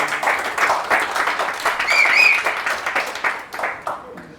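An audience at a Tamil debate stage event claps briskly, a lively run of many hands close by that rises and falls while a voice is also heard.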